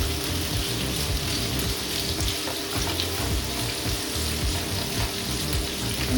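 Prawns fry in a pan with garlic for Italian garlic prawns, making a steady, even hiss that is close and continuous throughout, with no talking.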